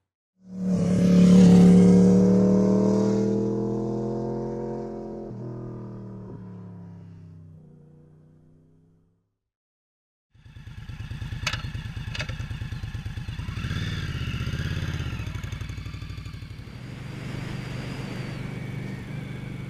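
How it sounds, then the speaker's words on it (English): An Indian Scout cruiser motorcycle engine rumbles and revs, fades out, then returns steady and loud, as if riding, with a pause of quiet between. "We're on the new Scout from Indian Motorcycles. It's a modern American cruiser."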